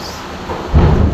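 Thunder rumbles during a heavy rainstorm, a low roll swelling up near the end of the moment over steady rain hiss.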